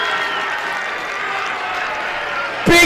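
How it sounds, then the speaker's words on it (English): A large crowd at an Australian rules football match between Eaglehawk and Gisborne in Bendigo gives a steady broad roar throughout, swelling into a sharp loud burst of noise near the end. "Big roar, big crowd"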